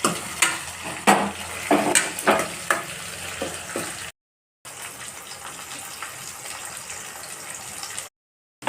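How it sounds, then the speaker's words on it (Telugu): Chopped tomatoes frying for sambar in a hot pan, a crackling sizzle with several sharp stirring scrapes early on, then a softer steady hiss, broken by two brief silent gaps. "టమాటా కూడా బాగా ఫ్రై అయిందండి"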